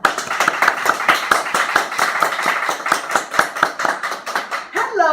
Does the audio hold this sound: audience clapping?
yes